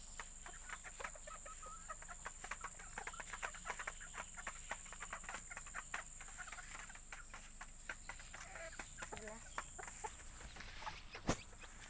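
Bantam chickens, ayam katai, with a mother hen and three-day-old chicks make soft repeated clucks and peeps in a steady scattered rhythm at moderate distance, with a sharp knock near the end.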